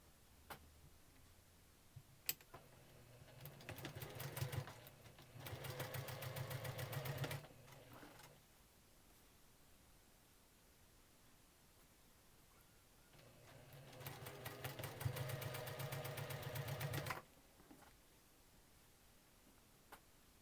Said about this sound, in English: So I'm just going to sew this like a 9 patch.